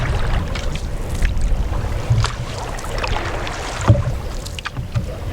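Canoe paddling among rock islands on Georgian Bay in Killarney, with steady low water swishes and dips of the paddle, occasional knocks against the hull, and light wind across the microphone, no talking.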